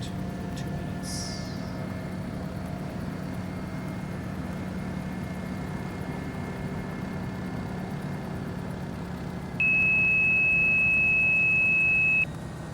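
Bell 407 helicopter turbine idling in the X-Plane 12 flight simulator, a steady low hum with a constant tonal whine, joined late by a sustained electronic beep.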